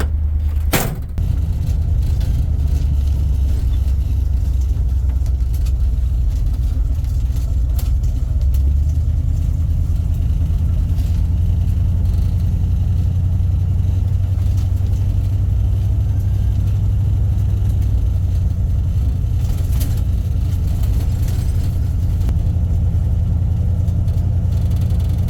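A 1978 Jeep CJ7 engine idles steadily after warming up in freezing cold weather, a loud, continuous low rumble that holds near and even for the whole stretch, with a brief knock near the start and no talk.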